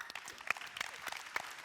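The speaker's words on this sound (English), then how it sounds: "You just feel free with your applause anytime, okay?" Applause from the audience at an Audi keynote at the first CES Asia in 2015, scattered claps at moderate distance forming a soft, uneven patter, with sharper individual claps standing out.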